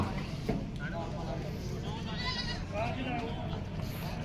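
Goats bleat a few times at moderate distance on a goat farm, over a noisy outdoor background with some voices.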